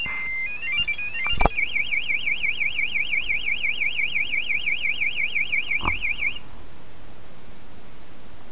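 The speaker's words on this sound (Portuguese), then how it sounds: "De novo esse alarme me deixando na mão." A motorcycle's security alarm shrieks a rapid, warbling electronic siren for about five seconds, close and loud, then cuts off abruptly.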